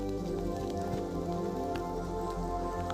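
Steady rain falls along the Hallasan trail's Dongbaek path on Jeju, making a soft, even patter that continues without a break.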